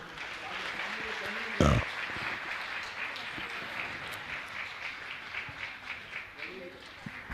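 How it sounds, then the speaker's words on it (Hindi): Audience at a spiritual question-and-answer gathering with a Jain monk applauding, a fairly quiet and distant patter of clapping under a speaking voice, with one sharp loud knock near the start and a gradual tapering. "श्रीमान, तालियां तो बजाइए आप लोग।"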